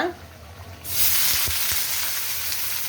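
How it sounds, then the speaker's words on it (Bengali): Bitter gourd dropped into a hot pan on the stove bursts into a loud, continuous sizzle after a brief quiet moment, with a couple of soft low thumps from the pan. "আমি এই চুলায় করলাটা বসাই দিই"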